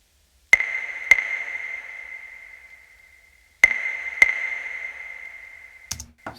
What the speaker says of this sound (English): the other kind of main part I was hearing in the sample is this clave